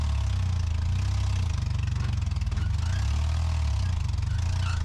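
An old abandoned truck's engine idles roughly after starting, a loud, close, steady low throb with a pulsing beat and slight unevenness throughout.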